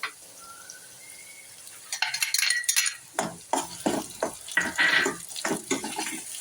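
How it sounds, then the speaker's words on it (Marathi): Masala being stirred in a pan for rajma, with a spoon scraping and stirring in repeated close bursts over a soft sizzle, after a quiet start, with no talk. "छान मसाला परतून घेऊयात आपण"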